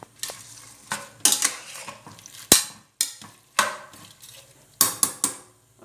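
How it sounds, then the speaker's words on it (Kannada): Horse gram and beetroot with salt and jaggery being stirred in a pot, with a spoon scraping and clinking in irregular bursts, several sharp metallic knocks against the rim and brief pauses between strokes. "ಈಗ ಚೆನ್ನಾಗಿ ಮಿಕ್ಸ್ ಮಾಡುವ"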